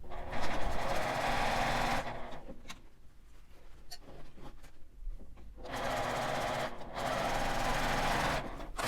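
A sewing machine stitches the lining of a fabric zipper pouch in two fast, steady runs separated by a quieter pause with small handling clicks, close and clear.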